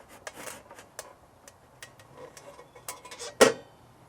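A wooden squirrel feeder sliding down onto screws seated in slots, making faint scraping rubs and small clicks with a louder knock as it settles near the end.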